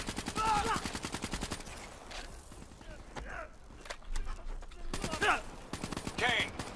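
Bursts of automatic gunfire from a dockside firefight in the Call of Duty: Black Ops 3 campaign, with rapid rattling volleys coming and going amid mechanical clatter and someone talking over it.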